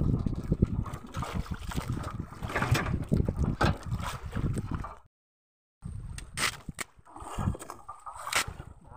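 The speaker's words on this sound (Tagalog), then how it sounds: "Pandar ulit tayo ng makina." A fishing boat motor runs amid wind and splashing water, its noise rough and uneven, cutting out briefly before resuming.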